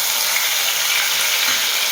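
Crushed onion sizzles loudly in hot oil, a steady dense crackling hiss close up with no voices.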